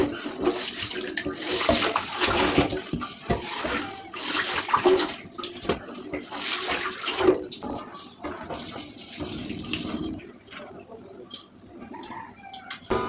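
Tom Brown grains are washed under running water, making a steady splashing and rushing flow with brief pauses and shifts, close and fairly loud, without speech.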